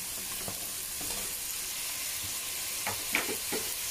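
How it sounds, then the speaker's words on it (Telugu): Tomatoes frying in a pan during curry preparation, a soft continuous sizzle with a few light stirring scrapes, quiet and close. "టమాటా పచ్చివాసన పోయిన దాకా ఇది కూడా వేయించుకుంటాను, కాస్త మగ్గిన దాకా."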